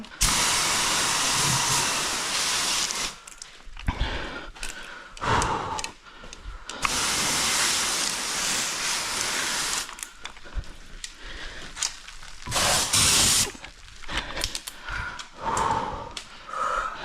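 Loud, broad hissing sprays from a fire extinguisher in long bursts at a broken Range Rover, stopping and restarting several times with short quiet gaps between.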